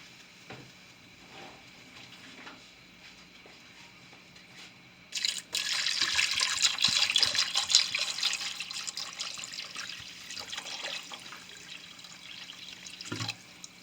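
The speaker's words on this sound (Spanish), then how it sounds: "Y vamos a agregar agua hasta tapar el piloncillo." Water poured into a pot over a cone of piloncillo while making Sonora-style capirotada: a soft, steady, close-up splashing pour begins partway through and continues to the end, with a faint hiss before it starts.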